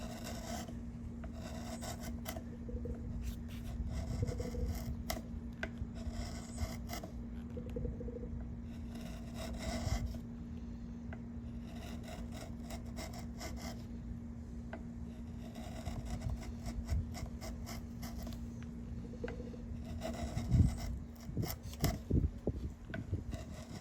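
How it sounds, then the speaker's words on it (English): A 1-inch pattern maker's chisel pares and scallops braces glued to a flamed maple back for a 7-string guitar, repeated short scraping strokes in bursts over a low steady hum, close and moderately quiet. "So I got my 1-inch pattern maker's chisel, and I'm going to approach those lines with my scallop."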